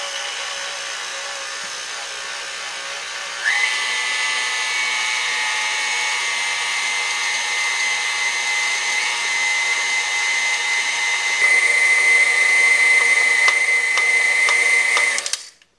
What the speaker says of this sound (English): Now, I've never worked this mixer before,